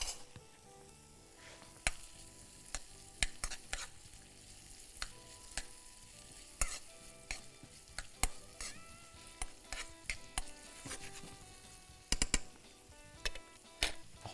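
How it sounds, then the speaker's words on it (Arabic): Finely minced onion frying in butter in a pan for a pistachio sauce, a quiet continuous sizzle broken by frequent sharp clicks and taps of stirring, with no talk. "احط بصل، بصلايه مفرومه صغيره"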